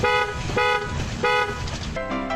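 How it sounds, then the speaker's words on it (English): Car horn honking in repeated short blasts, loud and close, with a steady tonal blare and brief gaps between toots. "she manages a way to honk at the car in front of her"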